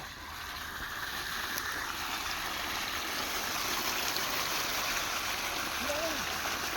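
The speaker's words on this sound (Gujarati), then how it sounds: "આયો આયો પાણી જો" Water gushing from a tubewell outlet, a steady broadband rush that stays even and moderately loud throughout, with no breaks.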